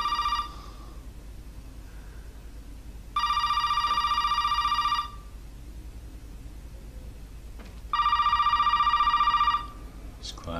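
Two long electronic telephone rings in Resident Evil 7, each lasting about two seconds, separated by a quiet stretch over a low steady hum.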